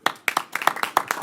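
A few board meeting attendees clap in a sparse, uneven burst of distinct close handclaps with gaps between them, no talking over it.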